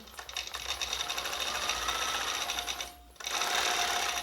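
A longarm quilting machine stitching a quilt-as-you-go project: a steady, close mechanical whirr with a rapid needle chatter that cuts out briefly near the end and then starts again at full speed.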